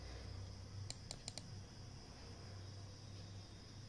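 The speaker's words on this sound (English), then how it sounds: "press the enter button" Computer keyboard keys tapped in a quick cluster of four faint clicks, close and quiet over a steady low hum and hiss.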